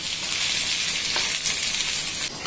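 Goat brain frying in oil on low heat, a close, loud, continuous crackling sizzle with a brief stir near the end.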